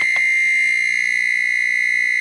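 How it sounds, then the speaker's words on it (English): A Dash Go Rapid Egg Cooker's buzzer sounds as one loud, shrill, steady high-pitched tone, alarm-like, lasting about two seconds before cutting off. "a buzzer goes off so you know the eggs are finished cooking"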